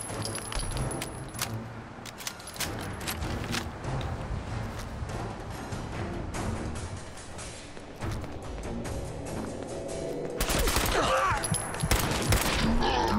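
Enemy guns firing in Fallout 4, a steady rattling barrage of rapid shots that runs nonstop and grows louder toward the end, with brief speech mixed in.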